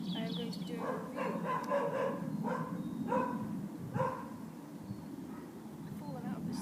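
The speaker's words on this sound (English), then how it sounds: "The one time I don't, dog barks." A dog barks outdoors, about five or six moderately close barks in an irregular series over the first four seconds, followed by quieter yips toward the end.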